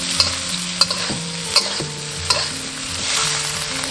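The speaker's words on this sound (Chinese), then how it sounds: "直接用煎鱼的油炒虾头，把虾头炒出香味" Shrimp heads sizzle in oil left from frying fish, a loud close crackle broken by several sharp clinks and scrapes of a spatula against the pan, without any speech.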